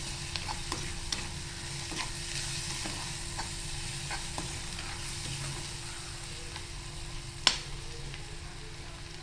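Onions with turmeric stir-fry in a pan for a prawn dish, a constant hissing sizzle punctuated by regular spatula scrapes and one sharp clink.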